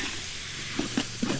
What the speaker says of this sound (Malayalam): ബീഫ് കൂടെ ചേർത്ത് നമുക്ക് നല്ലതുപോലെ ഒന്ന് മിക്സ് ചെയ്ത് കൊടുക്കാം